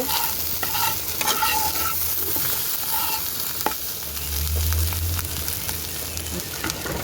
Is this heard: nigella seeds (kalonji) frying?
yes